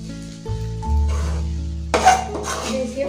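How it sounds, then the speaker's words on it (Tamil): Egg idiyappam is stirred in a pan over a low flame, with metal utensils clinking and scraping against the pan over a soft sizzle, and the scraping grows louder and busier toward the end. "அடுத்த சிம்மில் வச்சு ரொம்ப கிளறி விடாமல் மேலாக்க அப்படியே கிளறி விடுங்க"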